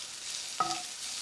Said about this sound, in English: And then just stir it up.